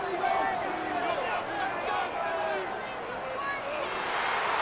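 In the Madden NFL 26 video game, a stadium crowd at a Packers versus Eagles NFC Championship cheers in a steady, moderately loud roar of massed voices that holds throughout with slight swells.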